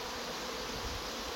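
Dense, steady buzzing of many honeybees from an opened, very strong hive being transferred out of its deteriorated wooden box, a continuous close hum with no other sounds.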